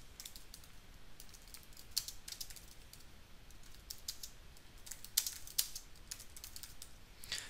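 Keys patter steadily on a computer keyboard while a code comment is typed, soft uneven taps with a few sharper strokes over a quiet background hiss.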